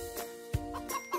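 Chickens in a children's cartoon cluck in a few short, close clucks and squawks, with one sharp louder note midway.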